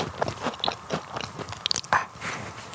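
Cantuccini biscuits dipped before eating are bitten and chewed close up, giving a run of irregular crisp crunches and moist chewing with no talking.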